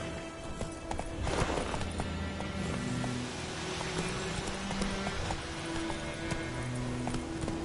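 A horse gallops in The Witcher 3, with a quick steady clip-clop of hooves close by over rushing wind and ambient noise.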